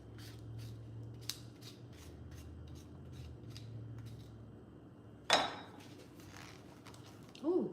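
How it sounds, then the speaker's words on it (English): A wire whisk works through slightly firm butter in a bowl for a chocolate cake, giving a steady series of quick, close scraping and clinking strokes, then a sharper clatter near the end, with no talking. "I'm gonna go in with this whisk"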